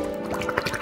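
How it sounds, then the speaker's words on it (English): A drink is poured into a glass during a dry-ice milkshake cooking challenge, producing close, soft liquid splashing and dripping for under a second with no talk. "Pouring our drink into a glass."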